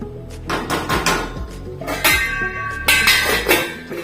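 A spoon scrapes and clinks against a metal pan while a moong dal nippattu mixture with ghee is stirred, giving irregular metallic taps and scrapes, close and fairly loud.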